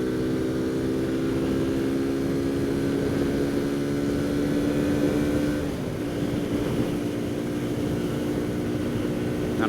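A Kawasaki Z125 Pro motorcycle engine drones at high revs during a speed run, steady and buzzing with a slight change in pitch partway through, heard continuously without speech.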